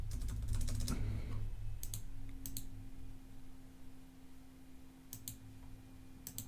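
Computer keyboard typing while entering text into browser automation software: a few quick bursts of key clicks in short clusters, moderately close, with no talking.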